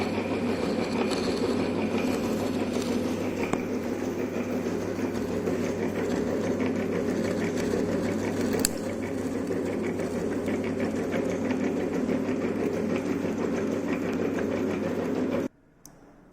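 A milling machine cutting spur gear teeth into a workpiece, giving a steady, loud mechanical whir and grind with a continuous hum and faint rhythmic clatter, running uninterrupted until it cuts off abruptly near the end.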